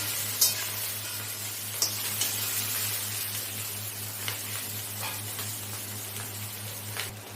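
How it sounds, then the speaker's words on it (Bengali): Fish roe frying with okra and a little cumin in a pan gives a steady, close hiss of sizzling oil, broken by a few sharp clicks and scrapes of stirring. "এটাকে আমি ভালোভাবে ভেজে নেব"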